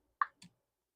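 A single sharp pop of a canning jar lid sealing, followed by a faint click, brief and isolated in an otherwise quiet room.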